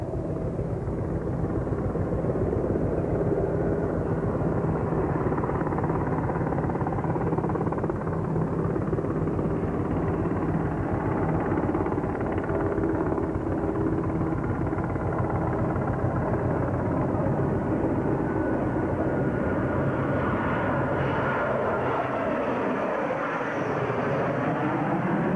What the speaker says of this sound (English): Looking at F-18s and S-3 Vikings.